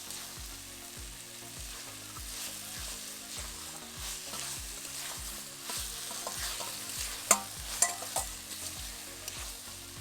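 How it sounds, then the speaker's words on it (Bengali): Peas and fried potatoes are stirred through browned masala in a pan for ghugni, a spoon scraping in steady rhythmic strokes over a soft continuous sizzle, close and moderately loud with a few sharper clinks. "মটর এবং আলু মশলার সাথে কিছুক্ষণ নেড়েচেড়ে মাখো মাখো করে নেব"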